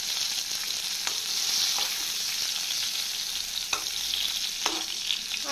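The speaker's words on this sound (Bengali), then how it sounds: "দেখো পটলগুলো পুরোপুরি ভাজা হয়ে গেছে।" Pointed gourd (potol) fries in a pan with a steady, bright sizzle, broken by occasional scraping and stirring strokes, close and without talk.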